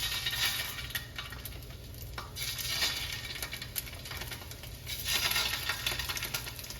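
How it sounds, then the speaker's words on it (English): Italian sausages fry in oil in a pan, making a quiet, steady sizzle with occasional light clinks and rattles of the pan and utensils. "while our sausage is in the background there sizzling away"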